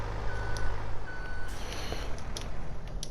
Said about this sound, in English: we'll just back this up beside the trailer just now